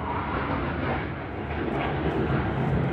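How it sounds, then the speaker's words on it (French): Airplanes pass overhead outdoors, a loud continuous low rumbling roar that fills the whole stretch without pause. "maintenant les avions, ils s'y mettent."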